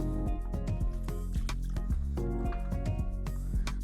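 Wet jollof rice being stirred and mixed with added warm water, giving squelchy, sloshing liquid sounds in quick irregular bursts, close up with no talking.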